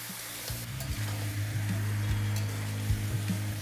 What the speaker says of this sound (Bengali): আপনাদের এখানে দিয়ে দিতে হবে ম্যারিনেট করা চিকেনটা